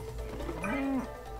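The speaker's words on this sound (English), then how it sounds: "Okay, may cow." A cow moos once in the video game It Takes Two, a short, clear, low-pitched bovine call that slides in pitch over about a second, heard on its own without talking.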